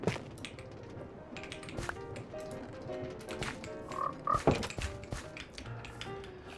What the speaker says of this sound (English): let's not leave the door open for the frogs to escape. Because frogs will escape.